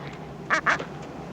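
Penguins calling in Antarctica: two short, nasal, quacking cries in quick succession, fairly close and loud over a low background hum.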